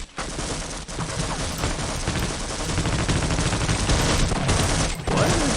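Sustained video game gunfire in a firefight, dense overlapping rapid shots and bursts filling the whole stretch, loud and close with no clear pauses.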